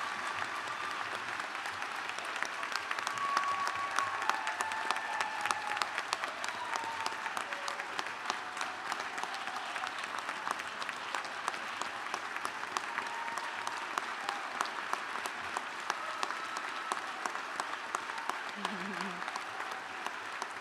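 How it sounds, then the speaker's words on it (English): Sustained applause from a large audience fills a university optometry graduation ceremony, a steady wash of many hands clapping at moderate distance for about twenty seconds, with faint voices mixed in underneath. "Let's have another round of applause"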